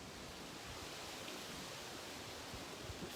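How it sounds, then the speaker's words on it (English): Soft, steady outdoor wind hiss blows continuously on a morning walk, faint and even, with no voices. "you can hear the wind blowing"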